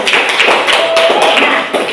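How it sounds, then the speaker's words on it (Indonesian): A group claps hands in a dense, continuous patter for about two seconds, loud and close, with no talking over it. "tepuk tangan untuk Anda"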